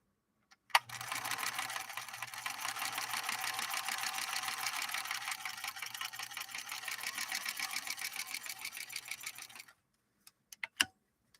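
A Bernina 125 portable free-arm zigzag sewing machine runs steadily for about nine seconds with a rapid, even mechanical chatter, then stops, followed by a few sharp clicks.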